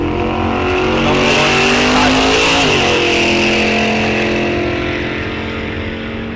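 A drag racing car rolls into staging at Rock Falls Raceway during a bracket series event, its loud engine roaring steadily close by with rising and falling revs, no voices over it.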